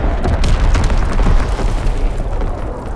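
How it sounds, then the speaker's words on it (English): Enemy mortar explosions in a PS4 video game: a dense, loud rolling rumble of overlapping booms and debris crackle that stays steady for a few seconds without any clear gap. "Enemy mortar fire incoming! Fall back!"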